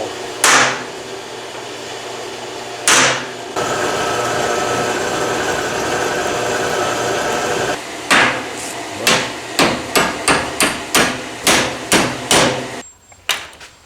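Sharp hammer strikes ring against a thick metal plate from a Caterpillar TC30 forklift, first isolated blows broken by a steady machine drone, then a quick run of about a dozen evenly spaced taps, close and loud without talk.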